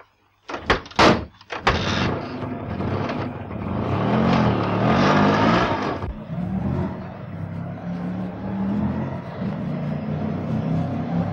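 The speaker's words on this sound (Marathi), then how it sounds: "ताबडतोब त्या रिक्षाच्या पाठोपाठ घे." An auto rickshaw sets off in pursuit of another rickshaw in a Marathi film. A few sharp door-like thuds come first, then the engine drones and revs steadily at moderate loudness, with no talking.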